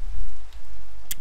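Rain falls in the video game Minecraft as a steady, fairly loud broadband hiss, with a brief sharp click near the end.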